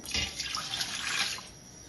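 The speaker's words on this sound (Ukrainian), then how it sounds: "Наливаємо воду," Water pouring from a tap into a pot with tomato paste for borscht dressing, a soft steady splashing stream lasting a couple of seconds, quiet and close.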